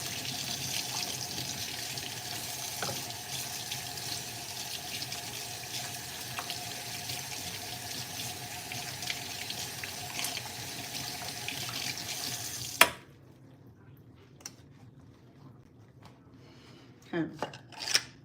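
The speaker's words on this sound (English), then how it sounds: "Let me wash my hand just a little bit." Kitchen tap water runs steadily as hands are washed during shrimp preparation, a loud continuous splashing hiss that cuts off abruptly, followed by faint handling clicks and small knocks near the sink.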